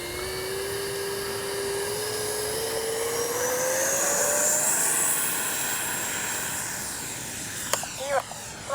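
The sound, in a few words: Freewing 70mm BAe Red Hawk RC jet taking off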